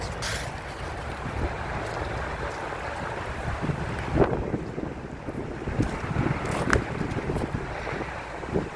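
Steady wind buffeting an outdoor microphone, a continuous low rumble with a few louder gusts, no voices.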